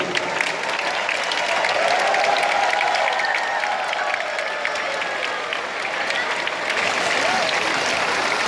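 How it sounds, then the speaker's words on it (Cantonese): An audience at a school's 200th anniversary torch-lighting ceremony applauds in sustained, even clapping that fills the hall, with faint cheering and voices mixed in. "請大家俾熱烈嘅掌聲。"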